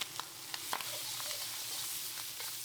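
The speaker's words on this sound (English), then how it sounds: "Make sure when you stir them for a few seconds, and then leave them alone so they get nice and crispy" Vegetables with corn and mushrooms frying in oil in a pan for crispy pan-seared salmon, a steady faint hiss of sizzling with a few light clicks of stirring near the start.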